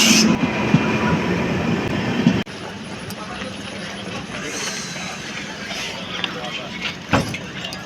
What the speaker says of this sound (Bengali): এই যে চলো, আমাদের ট্রেন চলে এসছে